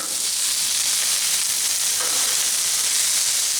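Steady, loud sizzling of peppers and onions frying in oil on a Blackstone griddle, a continuous hiss with no talking.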